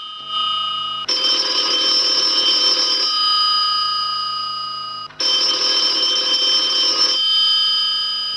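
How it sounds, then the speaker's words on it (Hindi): A telephone bell rings loudly in two long bursts separated by a pause, a bright, sustained electronic trill. "टेलीफोन की घंटी बज रही थी।"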